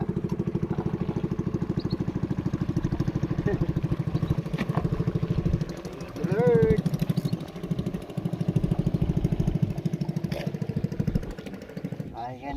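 A small motorboat engine chugs with a rapid, steady throb close by, swelling briefly as the boat passes near a fishing spot while someone talks over it.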